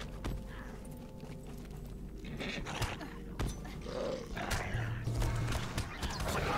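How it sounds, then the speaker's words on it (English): A horse whinnies amid the noisy clatter of combat in the Lord of the Rings Online game, with hoofbeats and roaring creature sounds mixed into a busy, fairly faint game soundscape. "Oh, it killed my horse."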